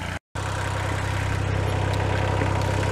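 A farm tractor's engine idles in a steady, loud, throbbing drone close by, broken only by a brief dropout near the start, with no talking.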